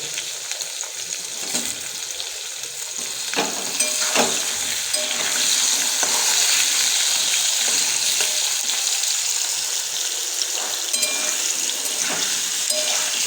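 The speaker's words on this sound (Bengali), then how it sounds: "আলুটা তেলের মধ্যে দিয়ে দিল" Potato pieces frying in hot oil for a lightly sour vegetarian dish with bori and tomato, a continuous close hiss of sizzling with occasional scraping clinks, steady throughout without speech.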